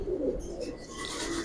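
Silver giribaz pigeons coo in a low, soft murmur at a loft, faint and close, set against a steady background hiss.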